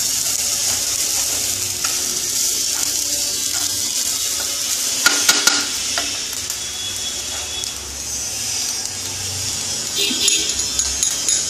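Ingredients for a dosa chutney fry in a pan with a loud, close, steady sizzle, punctuated by a few sharp clatters of a spatula stirring and scraping.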